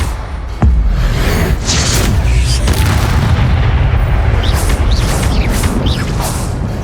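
An Expelliarmus spell impact in the Hogwarts Legacy video game lands as a sudden deep boom just after the start, then swells into a loud, sustained roaring rumble that stays dense to the end.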